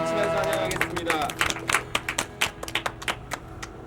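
A congregation at a young adults' Sunday online worship service at Yeondong Church claps in a steady rhythm along with singing, with sharp, evenly spaced claps growing distinct after the first second amid voices.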